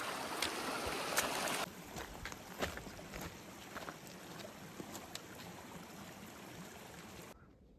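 Creek water flowing beside a mountain hiking trail near Mather Pass as snow melts, giving a steady broadband rush with a few louder splashes and footstep-like knocks, fairly close and continuous before cutting off at the end.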